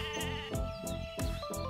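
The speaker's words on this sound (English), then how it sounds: "It's just a sheep." Sheep in a video game bleating several times in a row, loud, close, wavering calls repeating every half second or so, with no talk over them.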